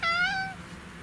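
A close pet cat gives a single clear meow, rising then falling, lasting about half a second against a quiet room.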